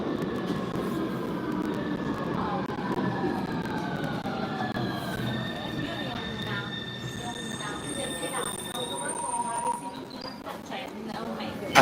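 A driverless metro train pulls into a station with a continuous rumbling roar and rising, drawn-out wheel squeals and tonal whines, fairly close, as a voice talks over it.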